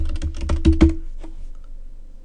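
Computer keyboard keys pressed in a quick run of about six crisp clicks, close up, then a single later tap and quiet as a password is entered.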